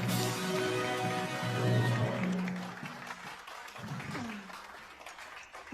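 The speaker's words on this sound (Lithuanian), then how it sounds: "Jūsų audringi aplodismentai." Audience clapping welcomes a performer onto an improvised stage at an evening gathering, a broadband patter mixed with sustained tonal sounds, likely music, before fading as voices take over.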